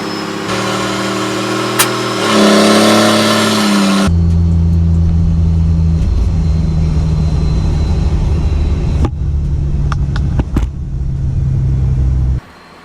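A 12 valve Cummins diesel with a 4-inch exhaust and FTE resonator roars loudly close by, revving up then dropping to a deep rumbling idle with a few short throttle blips before cutting off.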